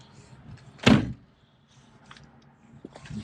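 A single solid thunk of a Jeep Wrangler TJ 4.0 door with sticky hinges and handle, one loud slam standing alone amid faint background noise.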